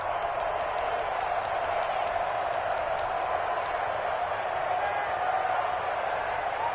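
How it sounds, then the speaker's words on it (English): Steady stadium crowd roar in a PS5 American football video game, a continuous loud wash of cheering with faint whistle-like peaks early on, running alone throughout. "And this crowd loves it as their guys hold on the opening drive."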